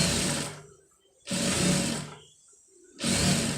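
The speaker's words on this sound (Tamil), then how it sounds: "இப்போ இதில் அப்படியே வந்து ஓட்டு தையல் வந்து அதில் கரெக்டாக ஓரத்தில் தையல் போட்டுருங்க." A sewing machine stitches ready-made piping along a fabric edge in three loud whirring bursts, each lasting about a second, with short quiet pauses between them.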